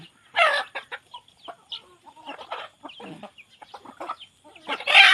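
A hen clucks in short, scattered bursts nearby, with a louder squawk at the start and end amid quiet gaps.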